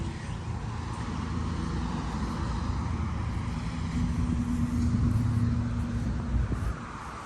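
A car pulls in nearby, its engine a low steady rumble that swells slightly toward the end before easing off.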